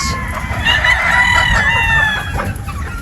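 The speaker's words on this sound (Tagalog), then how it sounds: "Yan po yung mga pulit natin ng mga buson roundhead." Busung roundhead pullets, about thirty young chickens in a pen, cluck and call loudly and close by, with one drawn-out crowing-like cry running through the middle.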